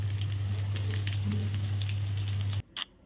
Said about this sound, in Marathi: तुम्ही हे भजीप्रमाणे डीप फ्राय करू शकता, पण मी ते पॅन फ्राय करून घ्यायला लागले।